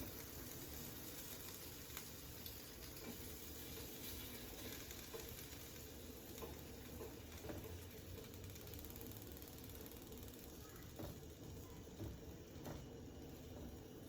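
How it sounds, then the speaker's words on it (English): Bacon sizzles steadily on a Ninja Foodi Grill, a constant crackling hiss with small pops, over a low machine hum and no talking. "Oh, you can hear the sizzle already."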